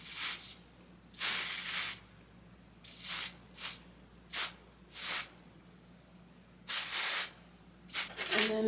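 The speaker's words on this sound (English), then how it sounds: "I'm just going to spray it." Repeated hissing bursts of aerosol spray on hair, about ten short sprays of varying length separated by brief pauses, close by with no talking.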